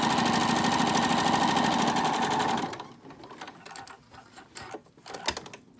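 A sewing machine runs a long, loud, steady stitch down the folded edge of a fabric face mask lining, then stops, leaving quiet handling noises and light clicks.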